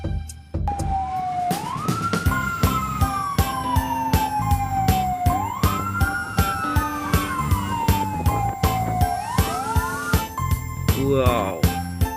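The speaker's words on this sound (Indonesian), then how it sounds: "Mobil truk pemadam kebakaran." A toy fire truck sounds a repeating rising-and-falling electronic siren wail, loud and close, over a steady ticking beat, with brief talk at the end.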